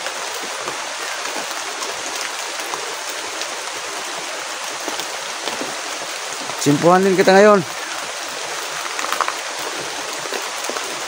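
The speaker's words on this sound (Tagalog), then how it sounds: "naabutan talaga ako ng ulan dito" Steady rain pours down outdoors, a dense continuous hiss heard from a sheltered spot, while someone speaks briefly over it partway through.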